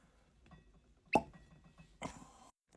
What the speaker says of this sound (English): that was actually one of the best cork pops that I remember of anything